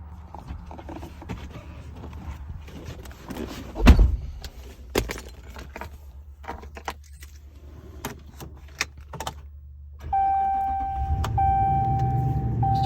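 Keys jangle and an ignition clicks inside a well-used pickup truck, then the engine catches near the end and settles into a steady idle.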